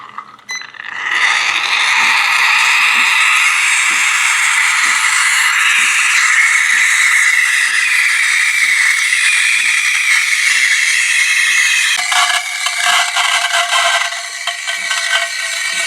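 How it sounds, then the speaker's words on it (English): A Casabrews 3700GENSE compact 20-bar espresso machine's steam wand hisses loudly and steadily for nearly the whole stretch, starting after a brief quiet moment and shifting slightly in tone near the end, with no talking. "I'm going to hit steam."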